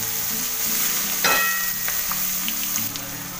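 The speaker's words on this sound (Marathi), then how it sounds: "आणि आता कांदा टाकूया. त्याला लसूण आणि आलं आहे ना ते परतून एकदम छान असं ना लालसर करून घ्यायचं." Chopped onion with garlic and ginger sizzles and fries in a hot pan for pav bhaji, a close, steady crackle with a brief louder burst as it is stirred.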